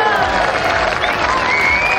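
A golf gallery at the Amundi Evian Championship final round roars and applauds as a putt drops, a loud, continuous wash of cheering and clapping with a commentator's voice running over it.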